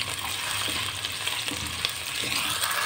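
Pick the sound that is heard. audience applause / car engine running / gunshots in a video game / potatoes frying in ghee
potatoes frying in ghee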